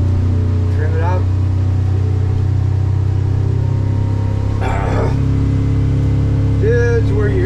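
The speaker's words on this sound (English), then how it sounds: "This is where you hear them RPMs go up right there" A Hewescraft boat's Honda-type F150 outboard engine drones steadily and loudly on the water as its revs climb, with voices talking over the constant motor hum throughout.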